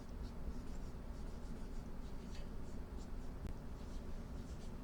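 A pen or marker writes a formula by hand for an arithmetic sequence, producing faint, close, intermittent scratching strokes over a quiet room hiss.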